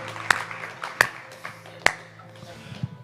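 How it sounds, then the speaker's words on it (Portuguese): A lone person clapping slowly, four or five sharp, well-spaced claps over a few seconds in a quiet room, with faint background hum. "eu mesmo vou aplaudir"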